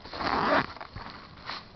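A zipper on a Nintendo DS carrying case pulled in one quick rasping stroke, close and clear, followed by a couple of softer fabric rustles.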